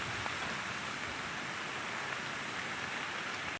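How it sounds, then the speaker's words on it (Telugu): Floodwater from a village pond rushes over a concrete lane in Urlugonda village, Suryapet district, after rain, making a steady, loud, broadband roar of flowing water that continues unbroken throughout with no voices. "నీళ్ళన్నీ రోడ్డు మించి పోతున్నాయి"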